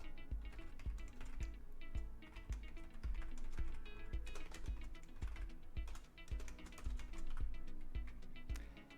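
Quick, steady clatter of fingers on a computer keyboard while writing code, close and fairly quiet, with dense irregular keystrokes and occasional heavier key thumps, no talking.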